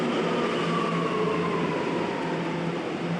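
A subway train at a New York City station, a loud steady roar of rolling wheels with a faint high whine that slides slowly downward, filling the whole stretch with no talk.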